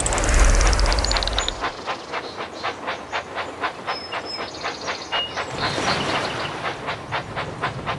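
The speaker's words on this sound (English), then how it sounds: "Clear the tracks! Engine coming!" A toy-style train in the Thomas and Friends Minis mobile game chugs along with a steady rhythmic clatter, opening with a loud steam hiss and whistle-like tones that fade into even pulses.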